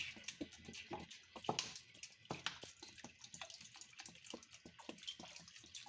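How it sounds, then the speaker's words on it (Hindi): Water is poured into a pot of mash lentils, a close, light splashing and trickling with small irregular bursts and drips, quiet and without speech. "अब पानी में इतना इसमें शामिल कर रही हूँ कि दाल जो है अच्छे से कवर हो जाए"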